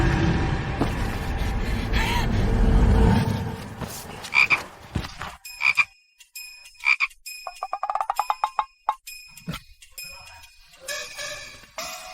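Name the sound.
toad croaking sound effect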